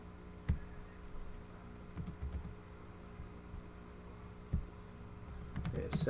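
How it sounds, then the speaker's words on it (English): Typing on a computer keyboard while entering a command on a Windows Server 2012 R2 machine: faint, sparse key clicks and taps at close range, alone with no talk. "To do so, we have to type this command"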